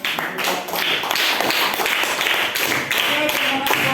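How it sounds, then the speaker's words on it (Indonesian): Students in an Indonesian classroom clap together in a loose, uneven patter of hand claps and taps, fairly close and lasting a few seconds, with faint voices mixed in. "tepuk tangan"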